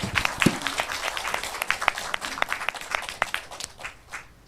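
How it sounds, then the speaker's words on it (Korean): A church gathering in Korea claps in encouragement, a fairly close round of applause with distinct individual claps that thins out toward the end. "자, 우리 박수로 격려하십시다."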